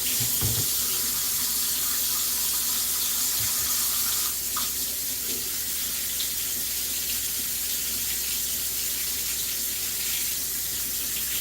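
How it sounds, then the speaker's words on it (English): Water runs continuously from a kitchen tap during handwashing, a loud, close, steady splashing rush with a brief clatter near the start. "we like to wash our hands"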